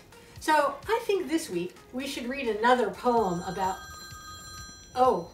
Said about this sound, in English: pardon me. That's my phone.